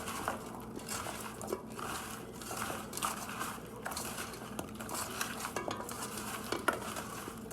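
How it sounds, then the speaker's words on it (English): Vegetables being stirred and tossed to coat them in butter and maple syrup, with repeated close scraping and clinking of a utensil against a pan over a faint sizzle, quiet and with no talking. "I'm gonna coat all the vegetables"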